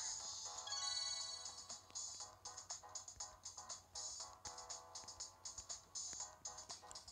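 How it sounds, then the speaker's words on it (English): Spark sound effects from a Pokemon Duel mobile game, a run of bright chiming bursts that repeat in quick uneven pulses for several seconds, fairly close and with no talk. "these spark things are from the game, not from my phone"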